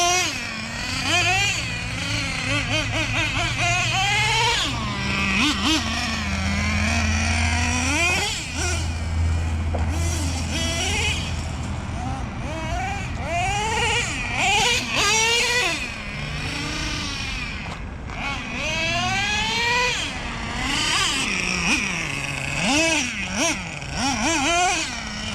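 Nitro Revo 3.3 RC car lapping a track, its high-pitched nitro engine repeatedly revving up and dropping off as it passes, near and loud, with a voice now and then.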